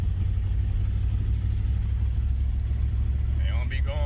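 A 3rd gen Camaro engine drones steadily with a deep, low rumble while driving, heard from close by as a voice speaks briefly near the end.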